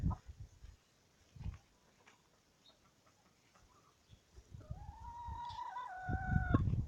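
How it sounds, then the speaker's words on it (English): A rooster crows loudly near the end, preceded by soft scattered clucks and rustling in a quiet yard. "So these are all new chickens."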